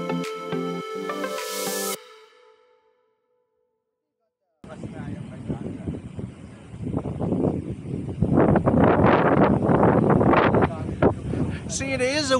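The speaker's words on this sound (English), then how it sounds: "See, it is a windy day." Wind on a windy day while riding a gravel bike, heard as a strong gusty roar buffeting the microphone and swelling in loud bursts after a short musical intro and a silent gap.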